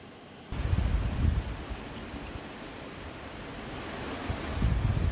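Steady rain pours down, a dense broadband hiss with heavier patter close by, continuous throughout.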